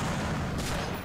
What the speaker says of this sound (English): Oh, that was a shot.